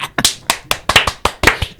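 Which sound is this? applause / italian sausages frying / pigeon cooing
applause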